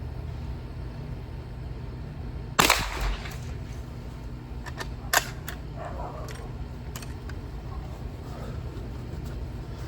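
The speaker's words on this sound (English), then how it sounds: "it is a 9mm Flobert shotgun of a type widely known as a garden gun" A 9mm Flobert garden shotgun fired outdoors in a garden, one sharp loud report near the start and a second fainter crack a few seconds later, over steady low background noise.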